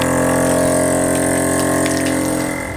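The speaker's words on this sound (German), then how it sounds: "Wir geben unsere Folie hier wieder in das Vakuumiergerät und diesmal brauchen wir die Funktion Vakuum und Schweißen und das machen wir jetzt." A vacuum sealer pumps air out of a bag of roast beef and seals it, giving a steady, loud motor hum with a tonal whine that holds throughout and eases slightly at the end.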